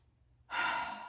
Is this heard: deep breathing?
yes